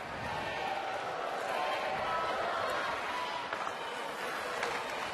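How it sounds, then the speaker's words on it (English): Hockey crowd inside Prudential Center during an Ottawa Charge at New York Sirens game, a steady distant roar of fans rallying their team, broad and continuous with no distinct peaks. "Crowd inside Prudential Center trying to rally their team"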